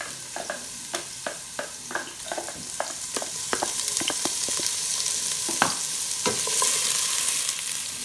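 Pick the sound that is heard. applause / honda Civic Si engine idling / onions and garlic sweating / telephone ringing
onions and garlic sweating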